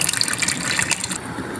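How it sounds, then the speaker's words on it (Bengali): Water gushes steadily into a bowl in a home kitchen, a bright splashing pour that runs for about a second before easing off, close and alone without talk. "এই যে একটা বাটিতে পানি নিয়ে"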